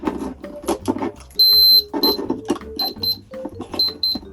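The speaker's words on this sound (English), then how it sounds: "I can hear a little beep." Several short, high electronic beeps from a caravan water tank gauge sound among scattered clicks and handling noises, with one longer steady tone near the start.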